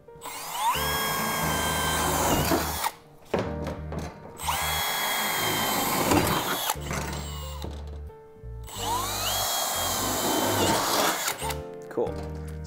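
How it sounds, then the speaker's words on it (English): A big metal drill bit bores through the corners of a van panel for a fan opening, with three loud, close whirring bursts of drilling separated by short pauses. "And then we'll get a nice big metal bit. This one's gonna be big enough that the jigsaw blade can go into that."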